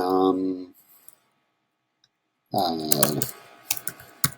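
Computer keyboard typing of a section title in Google Forms, a quick run of close clicking keystrokes that follows a voice and a pause of near silence.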